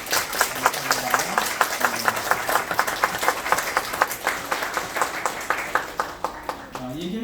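A church congregation at a Sunday service claps together, a dense steady patter of many hands, with a voice speaking over it toward the end.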